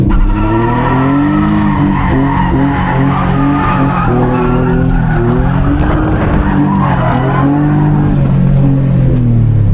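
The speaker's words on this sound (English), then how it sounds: "Clutch dump it, slide, use the what's it called, the body weight, transfer it" A Nissan Z car slides after a clutch dump, tires skidding and squealing in a loud sustained wail with the engine droning close by throughout.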